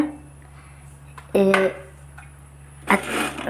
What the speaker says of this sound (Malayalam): ഈ മുളക് പൊടി ഇങ്ങനെ വെതറിയിട്ട്